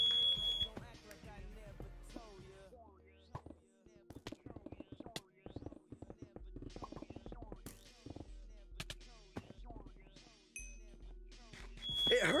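A home fire alarm sounds in repeated high beeping bursts during a video game stream, partly masked by loud gunfire, explosions and game effects.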